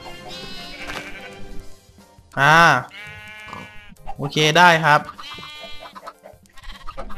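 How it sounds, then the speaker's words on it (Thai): Sheep bleats from the Minecraft video game, two loud wavering bleats in quick succession, with someone talking before, between and after them. "นี่ครับ ผมเป็นแกะนะครับ"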